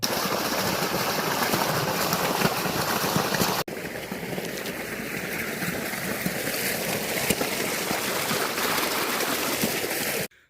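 Irrigation water flows steadily through a maize field, a continuous close rushing and gurgling that drops slightly in level partway through and then carries on evenly, with no talking.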